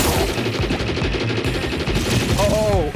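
Rapid weapon fire from a gun in Alien Hominid: Invasion, a loud, continuous stream of shots with game sound effects and a warbling tone near the end.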